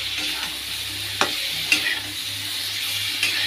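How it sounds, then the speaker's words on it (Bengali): Bay leaf and onion fry in a pan with a steady sizzle, broken by a few sharp scrapes and clinks of stirring, close and fairly loud, without any talk. "এখন দিয়ে দেবো তেজপাতা আর পেঁয়াজ, তেজপাতা আর পেঁয়াজ।"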